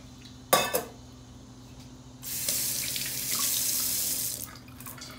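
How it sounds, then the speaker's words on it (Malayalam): Water poured into lentils for Kerala sambar: a brief clink of a utensil, then a couple of seconds of steady splashing pour that fades out. "പരിപ്പ് നകക്ക് കുറച്ച് വെള്ളം ഒഴിക്കണം."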